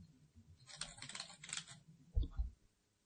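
Password being typed on a computer keyboard for a webmail login, a quick run of light key clicks across the middle of the clip, then a couple of heavier taps near the end.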